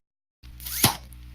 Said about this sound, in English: Hear that sound? That's the sound of the wiffle bat.